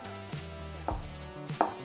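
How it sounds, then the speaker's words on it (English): Knife roughly chopping shiitake mushrooms on a cutting board, three separate dull thuds spaced out with no talk. "So roughly chop these shiitake mushrooms."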